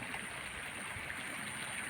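Rainwater runs down a small stream channel past a rural plantation in the rainy season, a steady, soft rushing flow with no other sounds over it.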